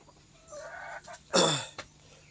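Native Bangladeshi white naked-neck chickens clucking nearby, a few short calls followed by one loud squawking burst and a brief final cluck.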